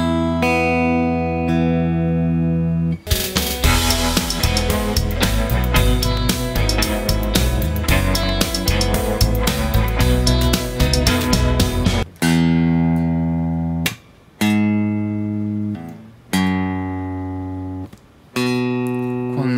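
Guitar chord phrase, with a bass line entering partway through; sparse plucked chords at first, then a dense full stretch of playing, then separated strummed chords with gaps between them, clear and up close.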